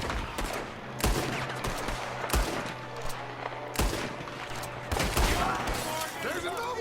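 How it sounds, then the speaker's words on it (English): Gunfire in the video game Red Dead Redemption 2: sharp shots crack out in an irregular volley, several loud reports spaced over a few seconds amid gritty background noise. "There's another one shooting from the window."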